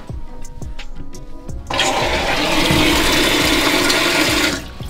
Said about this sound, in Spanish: veis que empieza a echar agua